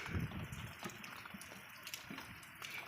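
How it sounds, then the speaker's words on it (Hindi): Sudden rain pours down at a rural home where livestock have just been hurried indoors, a steady, faint wash of water with a few splashy surges and no voices. "एकदम से लग पड़ी बारिश"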